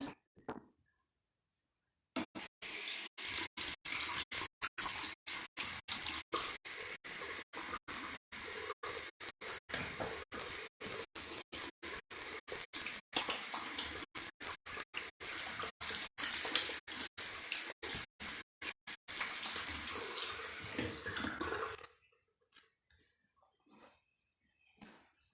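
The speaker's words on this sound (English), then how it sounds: "Going to wash my hands before I start mixing all of that in." A kitchen water tap running while hands are washed, a steady hiss of flowing water lasting about twenty seconds before it is shut off, with no talking.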